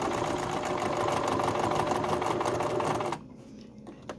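Sewing machine stitching embroidery, a fast steady mechanical whir running close and continuous for about three seconds before stopping abruptly into quiet.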